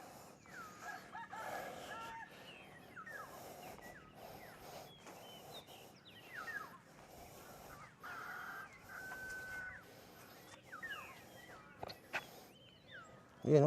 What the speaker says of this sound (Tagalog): Tapos panay huni ng ibon na maririnig mo.